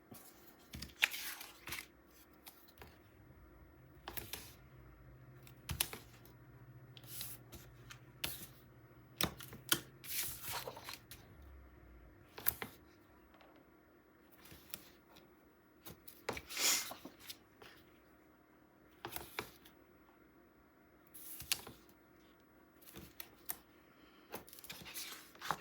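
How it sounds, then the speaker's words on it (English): Tape pulled and torn in short crisp bursts while building a 9x9 Stamperia Hidden Grove mini album page, with scattered close rips and crackles and quiet pauses between them. "I'm going to use tape."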